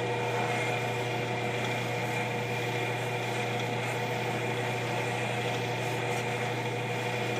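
An olive wood pen spins on a lathe while being lightly sanded with 1,000 grit paper, a continuous close droning hum with a constant low motor tone and gritty rushing texture throughout.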